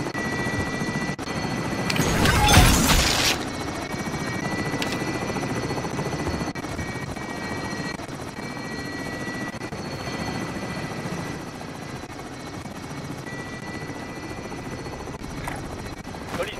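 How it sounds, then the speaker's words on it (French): A helicopter in Call of Duty Warzone's plunder mode drones steadily for about seventeen seconds, its rotor and engine noise constant and moderately loud, with a brief louder burst early on. "Hélico en position."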